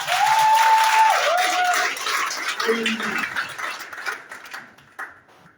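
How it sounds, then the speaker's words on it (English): An audience of youths at an inspirational talk clapping for themselves, a burst of applause that fades out over a few seconds, with some voices and whoops mixed in. "Clap for yourself."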